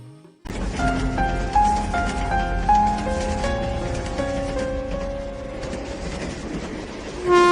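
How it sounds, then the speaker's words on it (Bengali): A Lalgola–Sealdah MEMU passenger train rumbles steadily along the rails, with rhythmic clatter and a rising drone throughout and no voices. "লালগোলা শিয়ালদা মেমু প্যাসেঞ্জার ট্রেনে চললাম বাহাদুরপুরের উদ্দেশ্যে"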